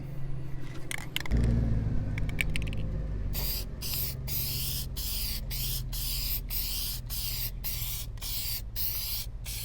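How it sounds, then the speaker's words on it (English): A spray can of Plasti Dip rubber coating hisses in a series of short, evenly spaced bursts after a brief rattle and clatter, with a low rumbling background throughout. "just shake up your can a little bit and go for your first coat"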